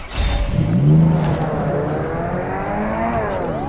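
A car engine in the Free Fire video game revs loudly up close, with a strong growl that eases into a steady, rising drone as the vehicle speeds away.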